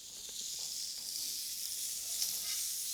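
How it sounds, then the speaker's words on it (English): Steaks sizzle steadily in a hot pan just after being flipped, a close, even crackling hiss with faint pops and no talking. "Let me go flip these steaks over."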